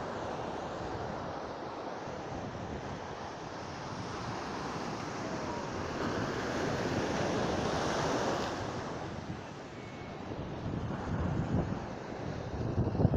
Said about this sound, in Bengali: সমুদ্র এখানে কত উত্তাল দেখুন, অপূর্ব লাগছে। আর ঢেউগুলো সেরা একদম।